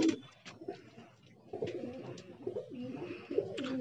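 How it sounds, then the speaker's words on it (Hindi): Pigeons coo softly and repeatedly, low throaty calls overlapping in a steady rhythm with faint background noise. "ये कबूतरी है, और ये आगे नर है"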